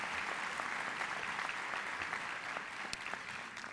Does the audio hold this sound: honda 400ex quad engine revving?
no